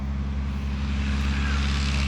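A de Havilland Tiger Moth biplane with a 130 horsepower four-cylinder air-cooled inline engine drones loudly and steadily, a low propeller hum holding level throughout as it passes.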